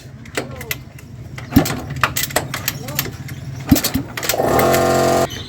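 A motorcycle is kick-started in a workshop after a clutch plate repair, with a scatter of clanks and brief mechanical bursts before the engine catches and runs in a steady, close idle. Someone talks at the start.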